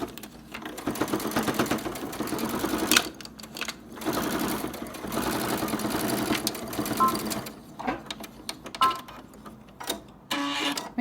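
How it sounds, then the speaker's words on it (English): Sewing machine stitching a seam on a table topper, close and loud bursts of rapid mechanical whirring that stop and restart several times, with short pauses between runs. "As we start sewing, you're going to back stitch and take out your pins as you go."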